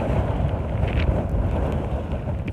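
Storm Ciara wind roaring through storm-damaged scaffolding with its covering ripped off, a loud, continuous gusting rumble with buffeting against the microphone throughout.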